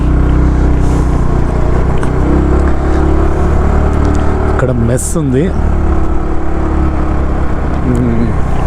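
A motorcycle ridden through a university campus with a helmet-mounted GoPro, its engine droning loud and close with wind buffeting, briefly revving up around the middle while someone talks over it.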